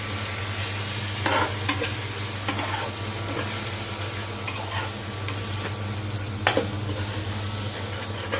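Spices for beef curry stir-fried in a pan, a loud continuous sizzle with repeated scraping strokes of a spoon or spatula against the pan at an irregular pace.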